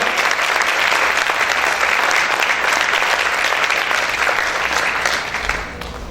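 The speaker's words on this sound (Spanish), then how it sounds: "Aplaude fuerte al Señor." A church congregation claps hard and continuously during a sermon, the thick applause holding steady for several seconds before tapering off near the end.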